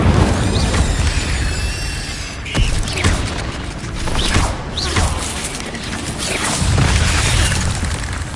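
Incendio fire spell cast repeatedly in Hogwarts Legacy, loud whooshing bursts and booms with crackling flame, several blasts spread across a dense game soundscape.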